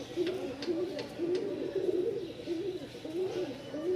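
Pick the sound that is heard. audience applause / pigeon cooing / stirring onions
pigeon cooing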